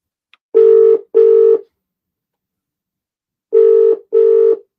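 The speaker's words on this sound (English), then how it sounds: "your phone was going off" A phone rings from a call placed by an Echo smart speaker: two double-ring bursts separated by a silent pause, clear and close, with no talk.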